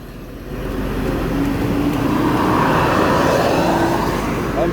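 A Jetbus 5 bus idles and rumbles at a busy bus terminal, a steady loud engine drone with road noise throughout and no talk.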